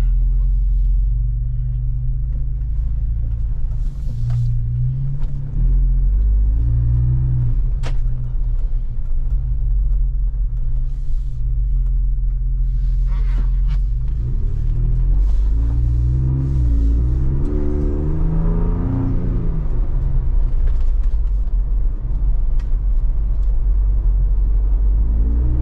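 A Ford Bronco with a 2.7L turbo engine and an Injen cold air intake drives along, giving a continuous low rumble that swells with revving and acceleration, with people talking over it in the cabin.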